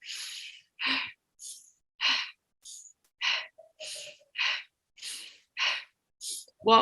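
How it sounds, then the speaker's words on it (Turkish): Guided deep breathing during a breathwork session: about a dozen sharp, forceful breaths alternate in an even rhythm, each a loud close burst of air separated by short pauses. "E, nefes alıp veriyoruz."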